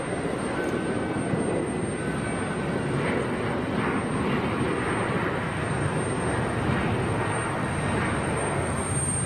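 A Finnair jet airliner departing, a continuous broad roar of jet engines heard from a distance without pause.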